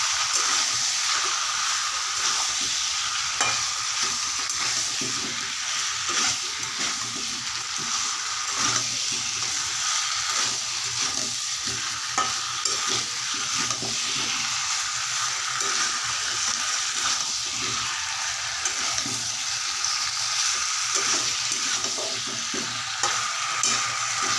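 Chicken curry made with desi (country) chicken is stirred in a pan, a steady broadband sizzle running throughout with soft, irregular scraping strokes beneath, fairly close and even in loudness with no talking.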